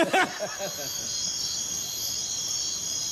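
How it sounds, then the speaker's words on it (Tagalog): Cricket chirping used as a comic silence effect on a Filipino noontime TV variety show, a steady high-pitched trill that follows a brief burst of laughter and voices at the start. "Nabalik sa kuliglig."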